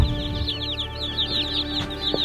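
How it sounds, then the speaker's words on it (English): Young chicks being brought home to a heat-lamp brooder, chirping and peeping steadily in a dense overlapping chorus close by, with one or two clucking calls mixed in and no talking. "Let's go get some chicks."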